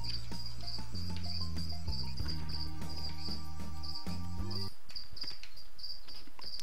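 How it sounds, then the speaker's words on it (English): Crickets in the Treasure Adventure Game chirp in a steady, high, pulsing trill that runs the whole time over a game music backing; the music drops out near the end while the chirping continues alone. "You guys hear those crickets?"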